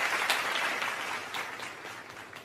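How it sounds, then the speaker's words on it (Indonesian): Fifth-grade elementary classroom applause for a student group, a steady dense wash of clapping from many children throughout, fairly close, with no voices over it. "Baik, tepuk tangan untuk kelompok"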